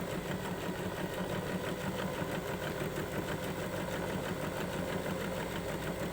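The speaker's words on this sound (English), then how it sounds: "And I'm going to sew this in place. I'm going to do a reverse and then continue along that line." Steady, continuous hum and rapid chatter of a sewing machine running as it stitches a pocket into place, even in loudness throughout with no pauses and no talking.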